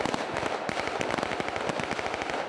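Rapid bursts of machine gun fire from an armoured personnel carrier during a military training exercise in abandoned Pripyat, loud and close, with sharp shots cracking in quick succession throughout.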